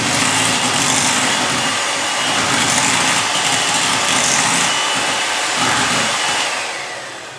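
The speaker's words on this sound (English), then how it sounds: "So I'm just going to blend this together real quick." A blender whirs loudly and continuously close by as it mixes a coconut milk mixture, a steady high motor roar with slight swells and no talking.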